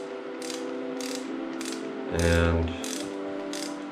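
A ratchet tightens a head stud on an aircooled Porsche 911S engine. It gives a series of loud, close clicking pulls in a regular rhythm, about five or six strokes, with one heavier clunk midway.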